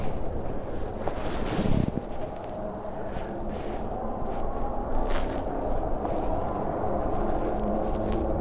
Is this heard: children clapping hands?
no